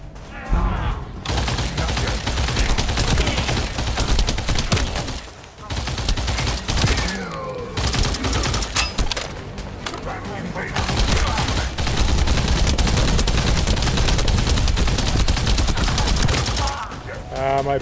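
Sustained automatic gunfire in the shooter game The First Descendant, dense rapid bursts nearly nonstop and loud, with brief gaps between volleys and a voice talking over parts of it.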